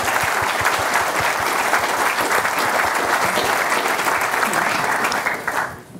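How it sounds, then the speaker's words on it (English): A meetup audience claps steadily for a speaker at a Cloud Native London tech talk. The dense, even applause runs loud for nearly six seconds, then thins and fades at the end. "Round of applause, please."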